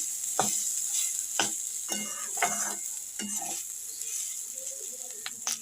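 Dry ground spices of coriander, cumin, chili and turmeric frying in a pan, stirred with a series of scraping strokes over a soft steady sizzle, close and moderately quiet.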